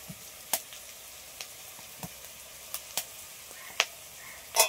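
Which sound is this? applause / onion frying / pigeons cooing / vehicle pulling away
onion frying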